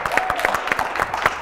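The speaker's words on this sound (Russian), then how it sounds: "Друзья, мы аплодируем, я встану." Studio audience applauding at a festive New Year football show in Russia, a steady wash of clapping with sharp individual claps standing out, moderately close and continuous with no talk over it.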